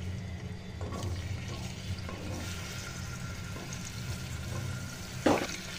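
Drumsticks (moringa pods) fry in oil in a pan for a mutton tomato drumstick curry, giving a steady low sizzle with occasional soft stirring and a brief louder scrape near the end.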